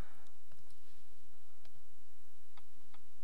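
A computer mouse gives a few sharp, light clicks spaced irregularly over a few seconds, close and fairly quiet, against a low steady background hum with no talk.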